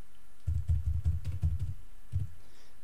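A computer keyboard is tapped in a quick cluster of soft, muffled keystrokes, then a single later press, close and quiet with no talking.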